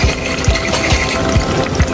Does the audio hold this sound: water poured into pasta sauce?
yes